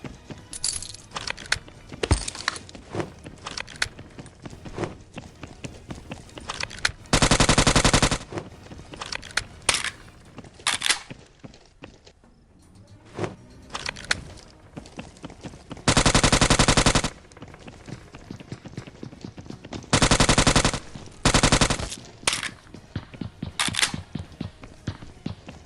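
Automatic bursts from a UMP submachine gun in Scarfall 2.0 on the Mumbai map, loud sustained volleys of about a second each, separated by scattered single shots, clinks and movement noises.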